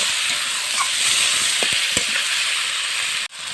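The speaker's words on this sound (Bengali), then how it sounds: "অল্প করে আমি জল দেবো দিয়ে আমি এই সবজিটা আর কিছুক্ষণ কষিয়ে নেব" Eggplant sautés in a pan with a splash of water for a village-style milk eggplant curry, giving a loud, steady hiss with a few soft stirring knocks before a brief drop near the end.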